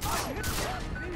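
Gunfire striking the player in Far Cry 3, a dense, continuous burst of shots and impacts lasting about a second, mixed with game sound effects.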